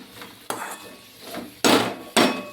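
A few distinct knocks and clanks sound close by as a lid is set onto a pan of cooking tomatoes, the last two the loudest, with brief quieter scraping between them.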